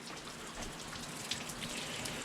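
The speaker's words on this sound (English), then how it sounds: "It's raining in Phoenix, man." Steady rain patters down in a front yard in Phoenix, a dense, even hiss of drops on the ground, fairly close and continuous, with no voices.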